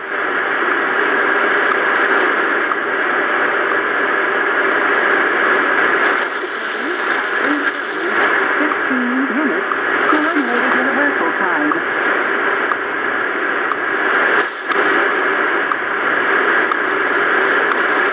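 Steady static hisses throughout from a Prunus J-03C shortwave radio, with faint wavering tones drifting in and out as it tunes toward WWV at 10 megahertz.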